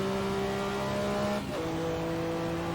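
A Porsche 962C Group C race car screams at high revs in the Assetto Corsa racing game, holding a steady tone before a quick gearshift drops the pitch and the engine pulls on.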